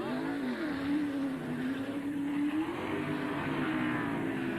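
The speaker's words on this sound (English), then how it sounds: "You heard that engine go, wow, wow, wow." A NASCAR stock car engine drones steadily at high revs during the 1991 TranSouth 500 race, its pitch rising and dipping slightly, with a constant roaring background.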